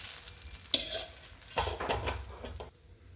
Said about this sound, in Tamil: இப்போ கல் ஹீட் ஆயிடுச்சு, நம்ம தோசை ஊற்றிடலாம்.